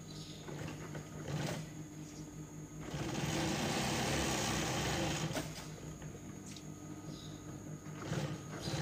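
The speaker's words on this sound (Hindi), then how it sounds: "किनारे की सिलाई लगानी है दोस्तों आपने इस तरीके से" Sewing machine stitching piping along the edge of a rickshaw hood, a steady close whirring run in the middle framed by shorter starts and stops.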